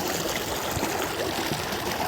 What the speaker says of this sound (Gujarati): થઈ ગયું છે પાણી શરૂ